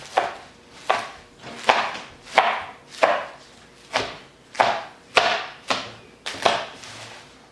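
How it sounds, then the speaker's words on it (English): Pre-washed spinach being chopped with a knife on a board, about ten firm, evenly spaced chops in a steady rhythm, close and clear with nothing else around them. "You just need to chop it, just a few chops."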